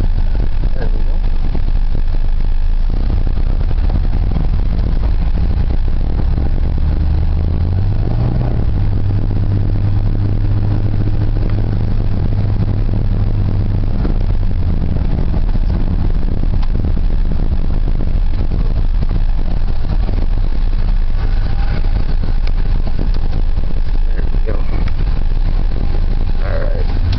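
A 1990 Ford F-150 with the 4.9L engine runs steadily, its low rumble loud and constant, rising briefly as it pulls away, heard from inside the cab with occasional talk over it.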